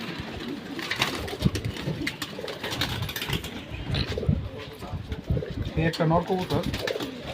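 Racing pigeons coo in low, throaty bursts amid a busy background of overlapping voices and some rustling, with an engine faintly audible at times.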